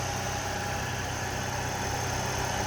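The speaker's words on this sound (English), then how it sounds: "Nice smooth running engine." A stock 1993 Ford Mustang LX convertible engine idles smoothly and steadily, a close, even low rumble held at constant level with no voices.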